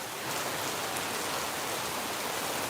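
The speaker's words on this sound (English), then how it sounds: "the first big rainstorm we're getting" Heavy monsoon rain pours down steadily in Phnom Penh, a dense, even hiss of falling water that stays loud and unbroken throughout, with no voices.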